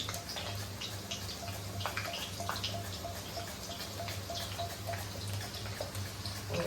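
Thin slices of raw banana fry in hot oil for chips, giving a steady close sizzle and crackle with scattered pops that runs without a break.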